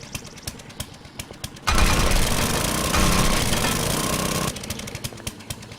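A drill-like auger in the game 7 Days To Die runs loud and steady for about three seconds, a dense grinding roar that starts abruptly and cuts off, with scattered clicks and knocks before and after.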